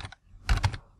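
A few quick keystrokes tap on a computer keyboard, close and brief, in a short cluster of clicks with no talking.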